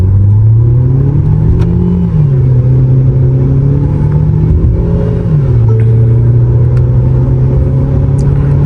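A Tata Safari 1.5 petrol automatic accelerating hard, its engine droning loud and close as the pitch climbs steadily, dropping briefly at gear changes around two and five seconds, then rising again.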